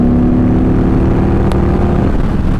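A tuned motorcycle pulls hard to pass without a downshift, its engine note a loud, steady, close drone throughout the short stretch.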